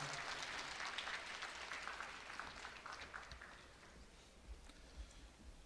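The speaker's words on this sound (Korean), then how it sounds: "손다솔 졸업생을 큰 박수로 격려해 주시기 바랍니다." Applause from the audience at a Korea University graduation ceremony: a steady, fairly faint patter of many hands clapping that gradually thins out over several seconds.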